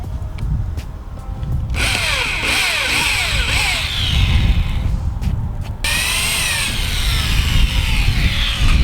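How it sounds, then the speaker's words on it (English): Power drill boring and tapering a screw hole in the fiberglass hull of a bass boat with a Phillips bit, steady close whine with rising and falling pitch sweeps, continuous and loud throughout. "use your Phillips drill bit to taper off the hole"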